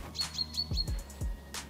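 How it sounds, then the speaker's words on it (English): Forest birds near a river in the Mureș area chirp and tweet in quick, bright repeated notes, fairly close, over a low steady hum with a few soft thumps underneath. "I have a lot of birds here."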